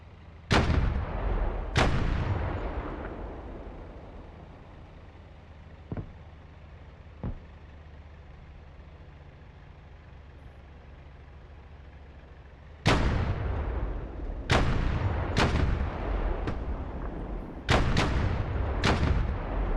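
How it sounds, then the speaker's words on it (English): A 105 millimeter artillery gun fires in DCS World, loud booming reports with long decaying tails: a pair at the start, two faint distant thumps in the middle, then a rapid cluster of repeated blasts toward the end. "What is this, an artillery gun? 105 millimeter?"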